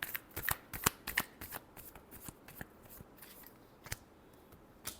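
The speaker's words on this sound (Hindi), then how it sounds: "last shuffle" Tarot cards being shuffled by hand, close and quiet, with a run of crisp riffling snaps and flutters in quick irregular bursts that thin out toward the end.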